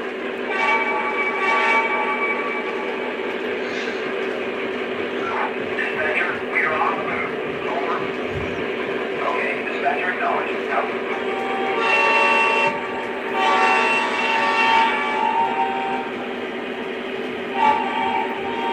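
Lionel model trains, including a Penn Central locomotive, run around the track with a steady mechanical rumble and whirring wheels, broken by several bursts of horn or whistle.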